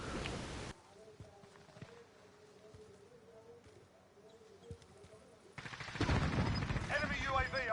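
Gunfire in the Call of Duty Warzone video game rings out as scattered, faint cracks and short bursts against a low game background, with a louder flurry of shots and chatter near the end.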